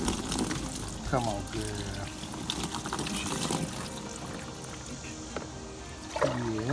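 Water poured over a dog to wet her down for a bath during grooming, a steady splashing and trickling running under a person's coaxing voice.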